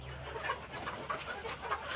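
Egyptian Fayoumi laying hens on a farm in Taraganj, Rangpur, cluck and murmur softly in the background, a faint, scattered flock sound with light rustling and no voices.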